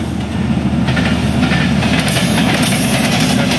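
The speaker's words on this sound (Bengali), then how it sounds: "এখানে পাশে হচ্ছে রেল লাইন, একটা ট্রেন আসতেছে" A train approaches along a railway line beside a green village, a loud rumbling roll with rhythmic clickety-clack building steadily and a faint high squeal near the end, no talking.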